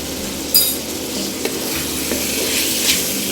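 Mutton pieces frying with ground spices and garam masala in a pot for chana dal gosht, a steady close sizzle with scraping stirs and a few sharp clinks of a spoon against the metal.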